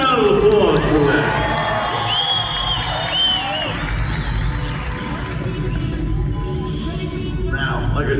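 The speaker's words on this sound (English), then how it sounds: "give a round of applause for that" A rodeo crowd in San Angelo, Texas cheers and whoops over continuous applause, loud and sustained, with an announcer's amplified voice and whistling shouts riding on top.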